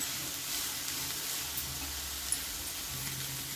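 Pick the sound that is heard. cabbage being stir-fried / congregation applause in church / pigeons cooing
cabbage being stir-fried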